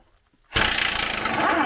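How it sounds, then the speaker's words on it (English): Impact wrench on a 30 millimeter track bar bolt during a Readylift leveling kit install on a 2017-19 Ford Super Duty, kicking in abruptly after a brief silence with a loud, steady rapid hammering whir, close up. "You're going to want a big boy impact probably."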